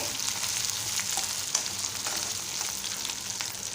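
A boiled potato sizzles in a hot frying pan for batata poha, a close, steady hiss of oil with a few soft stirring scrapes and no speech.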